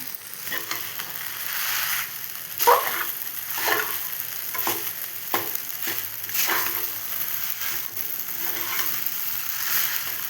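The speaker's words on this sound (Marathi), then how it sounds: "याची सारखी हलवायची खालची वर वरची खाली" Sabudana khichdi stirred in a pan over a gas flame, a steady soft sizzle broken by repeated scraping strokes of the spoon against the pan, close and continuous with no talk.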